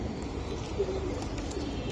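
Pigeons coo softly at a pigeon seller's stall, a faint low murmur in the background over a short stretch, with no talk.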